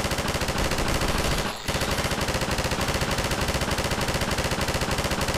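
Rapid automatic gunfire from a weapon in Half-Life 2, a dense steady burst of loud shots that runs almost without pause, with one brief break early on.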